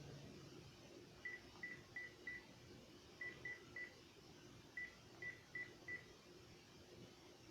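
A telephone number being dialed: faint keypad tones in three quick clusters of three or four beeps each, over a low hum of room noise.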